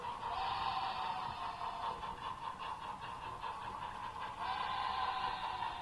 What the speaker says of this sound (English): there you hear the horn, or the whistle